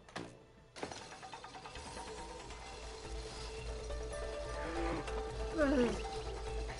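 A lion roars in the It Takes Two video game, a loud, rising growl building over the last few seconds, with a sharp thud near the start and a person speaking over the game sound.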